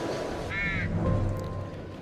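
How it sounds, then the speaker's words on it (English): Crows cawing in the horror video game The Devil in Me: one harsh caw stands out near the start over a low, rumbling ambient backdrop. "With the goddamn crows again. Ravens."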